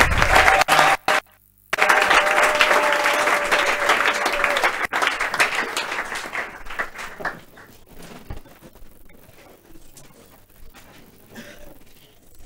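A church congregation applauds loudly and continuously, a dense wash of clapping that swells early and then gradually thins out and fades toward the end.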